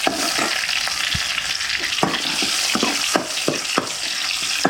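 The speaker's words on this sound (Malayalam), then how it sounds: "അപ്പോൾ ഉള്ളത് നമുക്കിട്ട് കടുക് വറുത്തെടുക്കാം" Mustard seeds crackle and pop in hot oil in a pan over an outdoor wood-fired stove, a dense sizzle broken by sharp, irregular spits and bursts, close and loud, with no talking.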